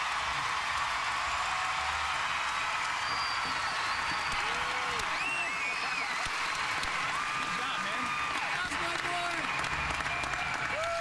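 Steady applause from a large arena audience at the 2012 AT&T American Cup gymnastics competition, continuous and even throughout with occasional whistles and cheers mixed in.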